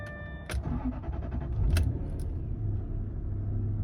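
A Jaguar Vanden Plas with a misfire has its engine started, with clicks and a brief cranking burst followed by a low, uneven running rumble heard up close.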